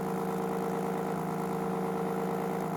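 DK 1 series power hub spinning at increased RPM, a steady mid-pitched mechanical hum with a faint rhythmic throb, continuous and fairly quiet, with no voices.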